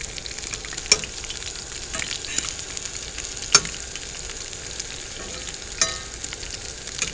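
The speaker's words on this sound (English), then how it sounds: "season them potatoes a little bit with some hamburger grease" Potatoes frying in hamburger grease on a cast iron skillet over a propane burner, a steady moderate sizzle with a few sharp pops and clinks throughout.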